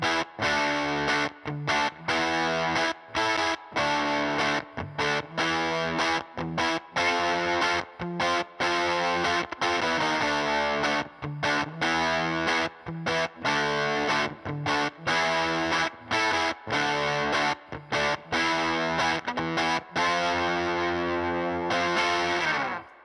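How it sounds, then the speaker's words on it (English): Electric guitar run through an ART tube mic preamp with the gain fully up, giving a crunchy Vox-like tube saturation; dense sustained chords and riffs play loud and continuous with brief gaps throughout. "the distortion is kind of reminiscent of a Vox amp"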